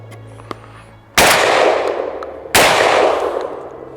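Two loud suppressed shotgun blasts with birdshot, roughly a second and a half apart. Each is a sharp close crack with a decaying rush behind it.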